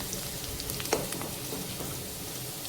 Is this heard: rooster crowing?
no